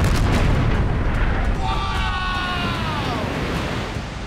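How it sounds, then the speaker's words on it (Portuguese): Underwater explosion throwing a boat out of the water: a heavy, loud rumbling roar of water and blast debris that sustains and slowly fades, with a faint tonal whine partway through. "Jogando o barco para fora da água, agora vai!"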